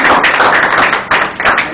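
An event audience applauds, a dense, loud wash of many hands clapping that swells and dips briefly.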